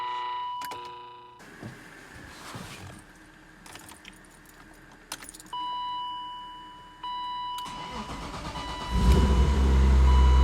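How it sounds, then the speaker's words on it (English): A BMW E36 M3 starts up after starter work on a clutch-replacement restoration, with scattered clicks and electronic chimes before the engine catches and settles into a loud, steady idle near the end. "makes me so happy to start the car and hear all the right noises"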